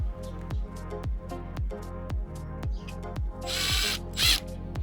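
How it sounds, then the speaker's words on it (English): A drill driver buzzes in short repeated bursts with brief pauses between them, unscrewing mirror hinges, followed by louder scraping and clattering toward the end. "make sure you unscrew these hinges. You can use a screwdriver or a drill driver."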